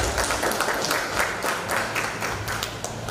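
Audience applause for a candidate for regent at a public debate: steady, dense clapping from a crowd filling the whole stretch at an even level.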